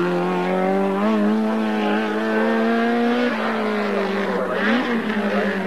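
A Toyota touring car from the European Touring Car Championship roars past a speed radar at a 1988 masters' gathering in Záskalí, its engine note loud and rising, then dropping and shifting as it passes, with tyres squealing.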